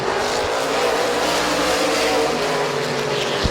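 Race cars roar off the start of an eight-lap heat race at Midvale Speedway, a dense, loud engine drone with revving as the pack accelerates together.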